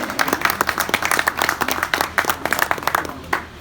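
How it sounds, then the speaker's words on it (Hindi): A small group at a rasam pagdi turban ceremony claps for Ustad Anil Sood, the sharp, distinct claps coming in quick uneven bursts before thinning out toward the end. "उस्ताद अनिल सूद जी के लिए भाई जोरदार ताली बजा दो जोर से।"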